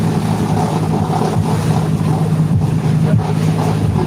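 A steady, loud tractor engine drone rumbles continuously, heard while riding on the tractor among a group of four tractors travelling together, with wind noise mixed in.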